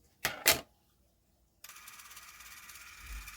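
An Olympus Pen 8EE 8mm film camera: two sharp mechanical clicks, then after a brief pause the mechanism starts running with a faint, steady whirring hum that continues quietly to the end.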